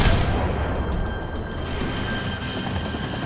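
A helicopter in the video game Max Payne 3 drones loudly with a dense, rumbling rotor roar that holds steady throughout, with faint thumps beneath.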